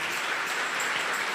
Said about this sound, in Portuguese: A igreja pode aplaudir o nome de Jesus.